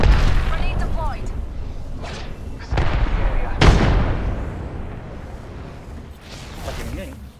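A grenade blast in the battle-royale shooter Apex Legends sounds as a loud booming burst mid-clip, among other bangs and game effects, with people talking over it.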